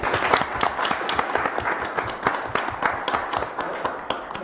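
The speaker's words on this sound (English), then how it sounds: "Have a round of applause." Attendees at a town council meeting give a round of applause, a dense, lively burst of many hands clapping that carries on for several seconds before gradually tapering off.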